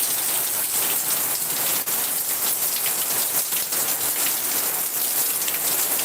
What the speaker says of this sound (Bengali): আজকে সকাল সকাল কিন্তু বৃষ্টি হচ্ছে দেখতেই পাচ্ছেন